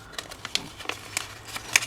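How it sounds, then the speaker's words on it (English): Birdsong drifts in through an open door, with scattered short chirps and tweets spread across the moment, faint and somewhat distant against a quiet indoor room. "I don't know if you can hear all the lovely birds singing outside."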